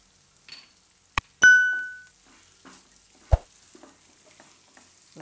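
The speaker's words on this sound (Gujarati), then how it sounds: "હવે આપણે એમાં કોબી નાખી દે હું" Washed purple cabbage dropped into a hot pan for a Gujarati cabbage and corn dish sets off a loud, sudden sizzle that fades over a second, framed by a few clinks of utensils and light stirring.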